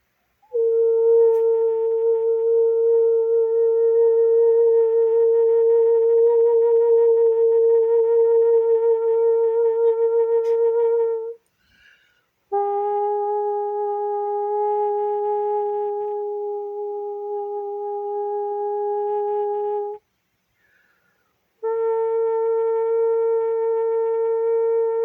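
Steady sine-wave tones played during an energy healing session, sounding alone in long sustained sections with two brief gaps, each section holding a pure pitch with faint overtones, loud and close.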